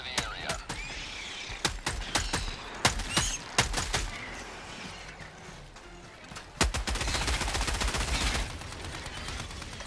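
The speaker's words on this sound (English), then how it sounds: "Firing orbital barrage. Clear the area." An orbital barrage strike in a co-op shooter game, with a rapid series of sharp, loud impacts and cracks at first, then a denser, continuous roar of blasts and gunfire in the second half.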